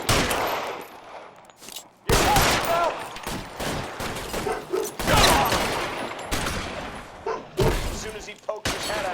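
Repeated bursts of gunfire in a police shootout in the video game L.A. Noire, sharp volleys and rapid fusillades cracking over a constant bed of noise, with brief gaps between the loud clusters of shots.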